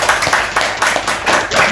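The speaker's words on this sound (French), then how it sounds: "Est-ce qu'on peut applaudir pour elle?" Audience clapping for a birthday greeting, loud and close, with rhythmic pulses of hands beating in near-unison about every quarter second.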